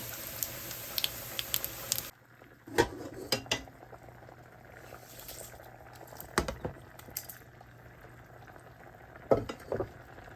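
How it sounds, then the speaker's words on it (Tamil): A tadka of onion, green chilli and curry leaves is tipped into a pot of boiling toor dal vegetable sambar, giving a loud sizzling hiss for about two seconds, then quieter bubbling broken by a few sharp clinks of a pan and spoon. "சாம்பாருக்கு தாளித்து கொட்டியாச்சு"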